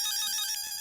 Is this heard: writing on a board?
no